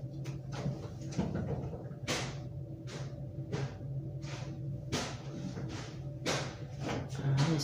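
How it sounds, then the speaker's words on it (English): A drawer in a home that is being remodeled is pulled open and pushed shut several times, giving repeated close wooden thuds and sliding scrapes over a steady low background hum. "Oh, this drawer."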